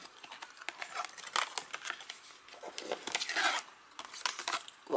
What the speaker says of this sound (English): let's turn these cards round